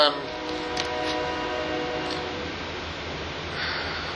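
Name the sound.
train going by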